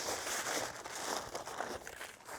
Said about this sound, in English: I'm just going to wrap this up with some heavy-duty aluminum foil.